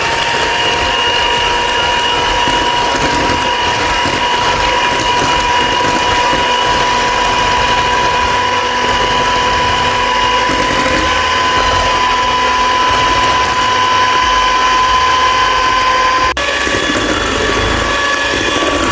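An electric mixer beats cake batter until it turns thick, giving a loud, steady motor whine with a constant high tone that shifts slightly near the end, no talk.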